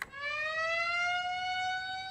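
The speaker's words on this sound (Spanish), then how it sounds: "¡Escuché una sirena!" A siren from a juice van, a single steady, moderately loud rising-then-holding electronic wail with rich harmonics lasting about two seconds, alone without talk.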